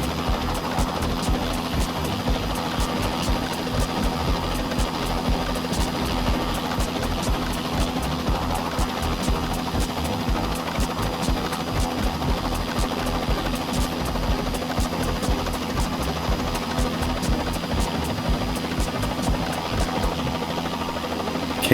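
A Bell 206B3 helicopter hovers in Microsoft Flight Simulator, its rotor and turbine producing a steady, loud, buzzing drone with a regular chopping pulse throughout, no voices.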